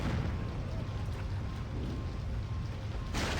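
Explosions go off in the Dreamcast video game Roommania, heard as a continuous dense, rumbling roar that stays loud throughout, with no talking.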